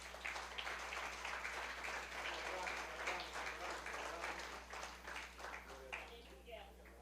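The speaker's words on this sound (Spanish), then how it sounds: "Aplauda al maestro, por favor." Church congregation clapping for the teacher during a Spanish-language service, a moderate patter of hands heard with a low electrical hum and voices speaking over it.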